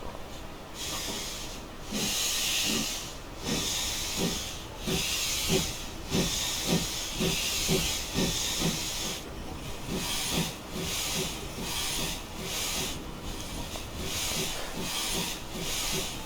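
Steady steam hiss with rhythmic chuffing bursts from an LSWR T3 4-4-0 steam locomotive in Train Simulator Classic, loud and continuous, with periodic exhaust puffs repeating through the whole stretch.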